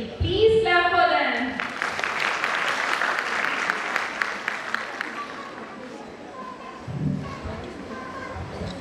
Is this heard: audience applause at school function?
yes